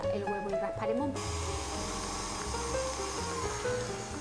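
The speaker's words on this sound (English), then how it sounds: "I put it inside my KitchenAid bowl. We're going to mix it around a minute or two." KitchenAid stand mixer beating cream cheese in its bowl, a steady close electric whir and hum that kicks in to full speed after about a second and runs on evenly.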